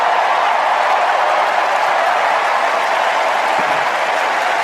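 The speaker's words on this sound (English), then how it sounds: "Listen to the people cheering." A large political convention crowd at the DNC cheering and applauding, a loud, dense, sustained wash of clapping and shouting that fills the hall without a break.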